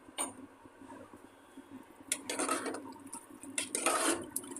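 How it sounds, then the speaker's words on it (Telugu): Water is poured into a pot of frying beans and toor dal curry in two short splashing bursts, close up, with quiet clinks between. "కొద్దిగా వాటర్ పోసుకోవాలి ఒక గ్లాస్ సరిపోతుంది"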